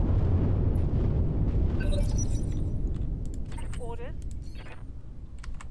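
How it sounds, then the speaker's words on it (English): Artillery barrage explosions in the Roguetech mech combat game, a dense, loud rumbling roar of blasts that holds throughout and slowly eases, with a voice speaking over it near the end. "There's the barrage."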